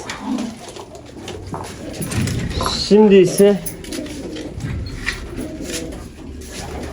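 Pigeons coo in a coop, one clear cooing call near the middle among rustling and fluttering, with someone speaking briefly.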